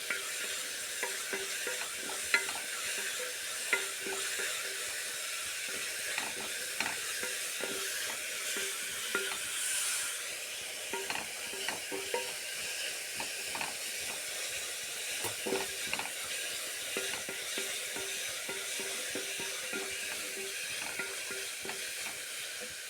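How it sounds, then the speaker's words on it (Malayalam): Onions sauté in a pan for a soya chunk curry, giving a soft, steady sizzle and hiss with light intermittent stirring taps throughout, moderately quiet and close. "സവാളയൊക്കെ നന്നായി വഴന്ന് വന്നിട്ടുണ്ട്"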